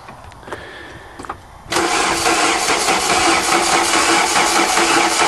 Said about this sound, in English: The whole system, it needs prime now, so he's just cranking it to prime it.